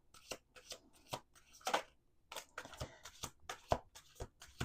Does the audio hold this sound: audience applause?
no